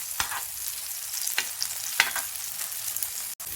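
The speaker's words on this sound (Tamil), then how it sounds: "இன்னும் கொஞ்சமாக பட்டர் சேர்த்து அந்த சைடையுமே நல்லா ஃப்ரை பண்ணி எடுத்துக்கலாம்." A potato cheese pancake fries in butter on a pan after being flipped, giving a steady soft sizzle with a few brief louder crackles, close and alone without talk.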